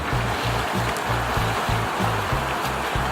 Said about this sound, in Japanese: ここから川、水の中歩いてきます。